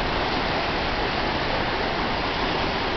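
Steady, dense rush of a shallow mountain stream well above Hungarian Falls, loud and close, with broadband water noise unbroken throughout and no voices.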